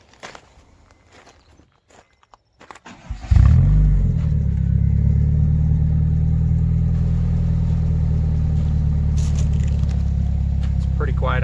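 A turbocharged Honda CR-V with a 3-inch Vibrant straight-through muffler cranks after some footsteps and handling noises, then settles into a steady, fairly quiet, deep idle rumble close by.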